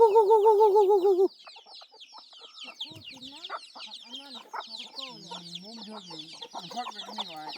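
A mother hen clucks softly among her peeping chicks, close and irregular, after a brief loud warbling tone at the start; a low voice murmurs faintly in places.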